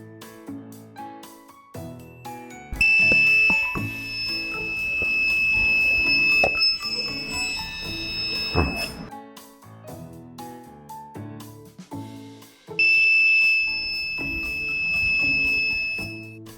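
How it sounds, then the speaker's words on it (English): A shrill electronic buzzer from a farm laser-fence security alarm sounds in two sustained bursts, high and piercing, with background music playing underneath and between them. "the laser fence will break and we will get the alert through the buzzer"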